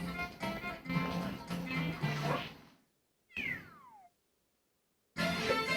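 A cartoonish cat meows in Super Mario 3D World as the cat transformation plays out. Loud game music and effects come first, then a short clear meow with a falling pitch, a gap of silence, and the music comes back.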